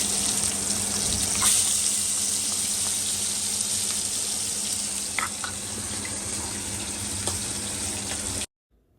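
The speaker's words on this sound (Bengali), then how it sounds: "মাছগুলো সব ধোয়া হয়ে গেছে আর এখন এই যে ভাজা হচ্ছে" Fish frying in oil for a home-cooked meal, a steady broadband sizzle with a few sharper pops running continuously, then cutting off abruptly near the end.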